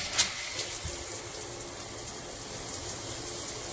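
Shower water runs steadily in a cabin on the Carnival Horizon cruise ship, a constant even hiss of spray with a brief bump near the start and no voices.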